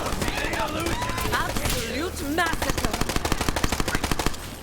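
Rapid submachine gun bursts in the video game Borderlands 3, a dense stream of sharp shots mixed with game effects, with a voice talking over part of it.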